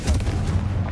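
A Confringo spell blast in Hogwarts Legacy gives a brief, dense, booming burst that stays loud throughout its short span with no pause.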